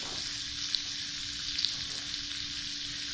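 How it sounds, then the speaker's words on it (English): Pork belly sizzles in a pan in a sugary sauce, a steady hissing fry with a few sharp pops and spits, close and continuous. "once you add this sauce, because of all the sugar in the sauce, it's going to caramelize very quickly"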